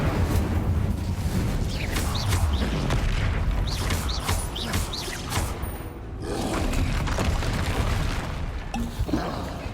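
Fiery magic blasts from an Incendio spell in Hogwarts Legacy, a steady stream of loud booms and crackling whooshes layered over busy combat noise, with no pause across the whole stretch.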